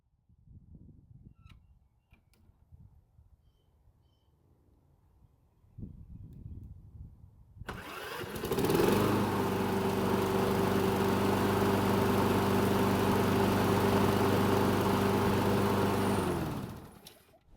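A Craftsman lawn mower engine catches on its electric start after a few quiet clicks and fumbling, then runs at a loud, steady drone for about eight seconds before shutting down.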